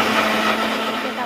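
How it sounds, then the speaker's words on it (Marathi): An electric mixer grinder whirs steadily as it blends a mango milkshake, a loud, close, continuous motor drone lasting about a second. "आता मिक्सरला बारीक करून घ्यायचं"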